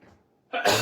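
A person sneezes once in a craft room, a short quiet intake of breath followed by a loud, abrupt burst at the end.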